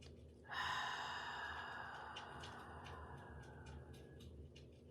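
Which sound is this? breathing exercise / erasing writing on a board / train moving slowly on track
breathing exercise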